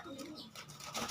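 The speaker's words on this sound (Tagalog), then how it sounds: "Ito yung mga kalapati ko." Young pet pigeons, including a juvenile not yet flying, give soft low cooing calls nearby, short and fairly quiet, with a person talking over them.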